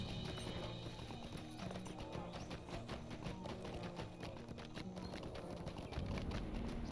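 Horse hooves clip-clopping steadily in Lord of the Rings Online as an unruly stallion trots toward the gates, a continuous rhythmic patter under epic orchestral game music, with no talk.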